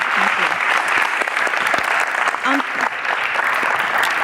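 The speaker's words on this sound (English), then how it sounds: "Can we give her a round of applause?" Audience applauding a guest speaker at an education advocacy class event, steady dense clapping filling the room, with some voices mixed in underneath.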